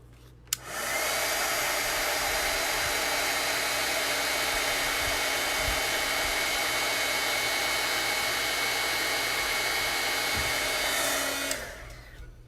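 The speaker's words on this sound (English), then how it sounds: "one last time with the heat gun" A heat gun running for embossing, switching on with a sharp click and blowing a steady loud whooshing hum with a constant motor whine for about eleven seconds before cutting off.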